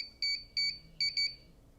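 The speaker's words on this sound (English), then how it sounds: "Aircraft did beep." A DJI Neo 2 drone beeps while pairing with its digital image transmission module: four short, bright electronic beeps in two quick pairs, close and clear over a quiet background.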